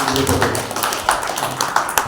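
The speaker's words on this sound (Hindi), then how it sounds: "आपकी जोरदार तालियां उनके लिए।" Audience clapping at a Hindi poetry gathering, a kavi sammelan, as a speaker is invited to the stage; dense, fairly loud hand claps with scattered sharper slaps running throughout.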